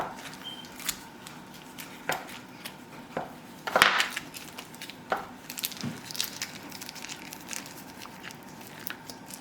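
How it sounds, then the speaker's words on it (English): A kitchen knife cuts through a block of food on a board, producing soft scattered taps and a firmer chop, close and fairly quiet against low room noise. "We're gonna take our knife and cut it in half"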